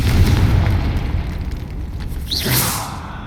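Confringo fire spell cast in Hogwarts Legacy, a loud explosive boom with a rushing whoosh and fiery burst that trails into crackling rumble, set over steady low game music.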